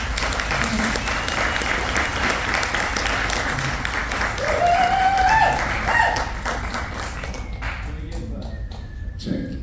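Audience at a marriage seminar in a church fellowship hall clapping in a sustained round of applause, dense hand claps that swell in the middle then thin out, with voices and a brief melodic tone under it.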